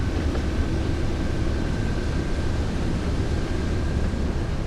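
A locomotive with dynamic braking picks up speed in Train Sim World, producing a dense, continuous rumble and rail roar with a faint steady whine above, loud and unbroken throughout.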